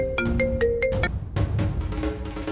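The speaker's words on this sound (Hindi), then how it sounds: "मैम का फोन।" A phone ringtone plays alone, a bright electronic melody of quick repeated notes that is loud and close, with a short pause before the tune starts again.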